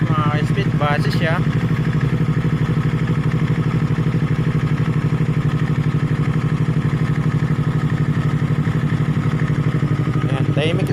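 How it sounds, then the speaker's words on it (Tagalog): A 2019 Yamaha R3 with an Akrapovic M1 exhaust idles close by in a steady, low, even burble that stays level throughout with no revving. "Yung tunog ng Akrapovic M1."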